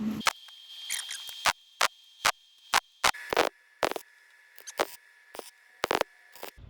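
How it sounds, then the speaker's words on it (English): A quick tack weld on a steel ladder rung for a scrap-air-tank tank car: a faint hum with a high whine, broken by about a dozen short, sharp crackling bursts at uneven intervals. "What I like to do is reach under and do a quick tack weld because it's less conspicuous."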